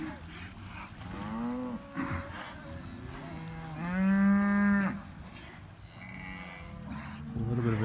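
Cattle mooing nearby, several long, drawn-out bellows overlapping one another, with one especially loud, deep call in the middle.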